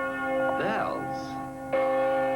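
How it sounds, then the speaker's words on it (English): Church bells ringing: a few resonant, ringing bell strikes with long sustained tones over a constant steady hum, fairly loud and close. "Bells?"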